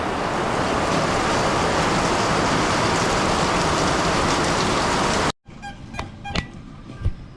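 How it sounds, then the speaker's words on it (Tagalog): Heavy rain pours down as a loud, dense, unbroken hiss with rough wind buffeting for about five seconds. It then cuts to a quieter stretch with faint patter and a few scattered knocks. "lakas ng ulan do"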